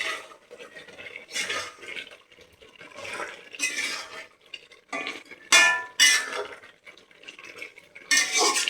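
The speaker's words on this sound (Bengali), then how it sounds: "মাংসটা একটু নেড়ে দেব।" Chicken meat stirred in a pot with kasuri methi produces irregular scraping and clinking of a spoon against metal, close by, in uneven bursts separated by short pauses, with no talking.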